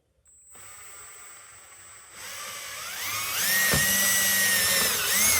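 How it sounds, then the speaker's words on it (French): A power drill with a 1/4-inch bit whirs up to speed and bores steadily through roller-ski mounting holes, its pitch rising and dipping under load, loud and close with no talking. "on prend une perceuse avec une mèche 1/4"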